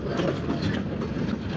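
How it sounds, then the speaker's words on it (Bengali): A Bangladeshi freight train rolls past close by, a dense steady rumble of wheels on the rails with a rhythmic clatter underneath, loud and unbroken for the whole moment. "বাংলাদেশ মালবাহী ট্রেন"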